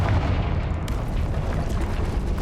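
A Confringo spell in Hogwarts Legacy detonates as a heavy, rumbling blast, its low boom filling the whole stretch with a sharper crack partway through and no talk over it.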